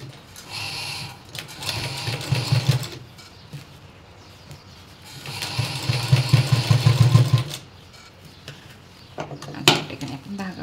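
Sewing machine stitching a cotton gown, running in two sustained bursts with a steady motor hum and rapid needle chatter, pausing between runs, with a brief clatter near the end.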